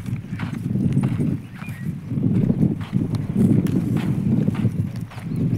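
A pair of bullocks walk on farm ground after being watered, their hooves clopping in a steady, uneven rhythm close by, fairly loud, with no talk.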